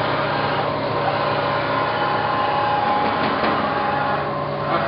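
Bridgeport CNC 3-axis milling machine, model V2XT, traversing its X axis: a steady, even motor whine and drive hum that holds constant for the whole stretch with no speech.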